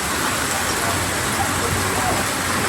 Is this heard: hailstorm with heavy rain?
yes